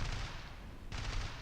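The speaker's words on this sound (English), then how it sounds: "get a nice load of rounds into him" Aircraft machine guns fire in the War Thunder combat flight game, a dense continuous rattle of rapid shots with a brief dip before a second sustained burst.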